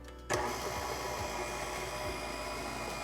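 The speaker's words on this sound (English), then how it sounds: "Be sure you start your mixer on low." A handheld electric mixer starts on low speed while mixing powdered sugar and vanilla into frosting, switching on abruptly with a click, then holding a steady close motor hum with faint rhythmic beater knocks.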